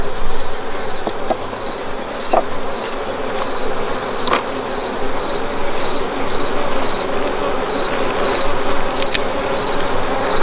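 Honey bees fly around a nuc hive entrance where smoke drifts in front of it, a loud, steady swarming buzz with a faint repeating high tick throughout and no voices.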